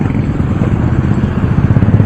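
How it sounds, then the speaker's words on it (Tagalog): A motorcycle stalling as it pushes through deep flood water at high tide, heard up close as a loud, rough engine rumble mixed with sloshing, clattering and scraping noise. "Hindi rin nakalusot ang aking motor."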